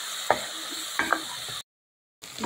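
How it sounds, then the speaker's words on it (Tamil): Ginger garlic paste sautés in a pan for a traditional mutton gravy, a steady sizzle with a few sharp stirring scrapes, broken by a brief silent gap before the frying resumes. "இது கொஞ்சம் நல்லா வதங்கட்டும்"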